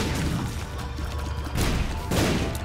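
Bombs going off in The Binding of Isaac, a pair of muffled, crunchy booms about half a second apart over a steady game backdrop, fairly quiet.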